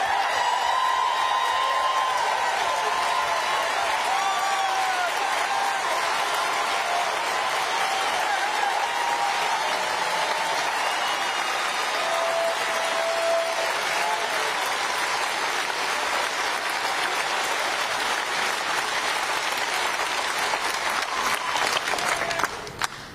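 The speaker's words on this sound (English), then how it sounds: "This is the easiest applause lines in these speeches." A crowd at a political speech applauds in a long, steady roar lasting over twenty seconds, dense continuous clapping with scattered cheers and whoops mixed in, heard fairly close and unbroken throughout.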